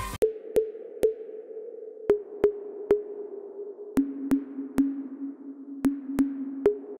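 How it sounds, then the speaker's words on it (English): Short plucked synth notes in FL Studio form a slow melody over a sustained low tone, each note bright and sharp with a reverberant tail. "I will create a pluck melody using the bass notes"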